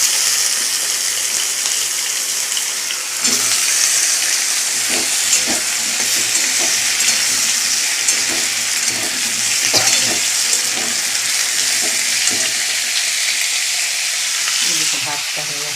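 Potatoes fry in a pan with egg and onion, giving a steady loud sizzle with scattered crackles and occasional stirring scrapes throughout.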